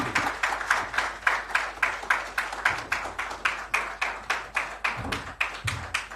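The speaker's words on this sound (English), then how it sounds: "Please, can we give another round of applause for Mr. Delvin Fletcher?" Audience applause at the IIBA Nigeria Chapter 2025 conference: steady, evenly spaced claps repeat through the whole stretch, fairly close and loud, with no talking over them.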